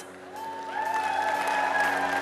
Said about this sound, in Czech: No a teď ten aplaus bude naplno